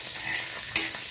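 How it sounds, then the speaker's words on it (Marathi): Grated coconut (khobra) dry-roasting in a pan for a peanut, dal and herb chutney gives a steady soft sizzle and scraping stir, with one brief louder scrape midway. "खोबरं भाजूया"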